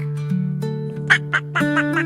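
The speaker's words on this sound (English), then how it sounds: "Mama duck said quack, quack, quack" A few short nasal quacks, close and distinct, over a steady sustained tone.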